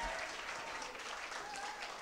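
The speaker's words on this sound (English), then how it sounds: "Let's give all these students another round of applause for how awesome these apps are" Faint, steady applause from an audience at a student app demo day, a brief dense patter of many hands with no voices.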